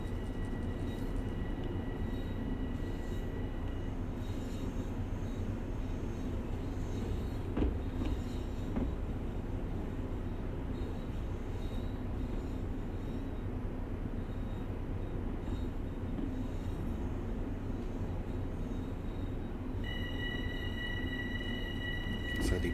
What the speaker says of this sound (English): we're now going to be stuck at 10 miles per hour until the rear of the train has cleared this junction.